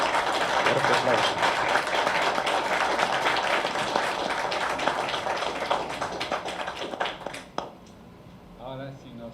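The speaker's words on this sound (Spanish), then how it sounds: "aplauso." Applause from the audience at an honorary doctorate ceremony for the Spanish philosopher and jurist Manuel Atienza: dense, steady clapping for about seven seconds, then it thins out and a voice begins speaking.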